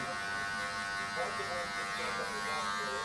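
Electric hair clippers fitted with a 1.5 guard buzz steadily and close while cutting a fade, a continuous hum with slight shifts in tone.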